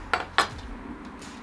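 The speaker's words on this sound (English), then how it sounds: "Take it right down the middle of it and slice it." A knife cuts through a beer cheese cheeseburger on a griddle, giving two sharp clinks of metal on metal about a quarter second apart. Faint background hum fills the pause after them.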